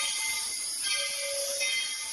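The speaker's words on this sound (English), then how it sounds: "Why would you keep going when you can hear and see the train?" A train passing nearby gives a steady broadband rush of wheels and cars with a brief tonal whine partway through, continuous and fairly loud with no talking.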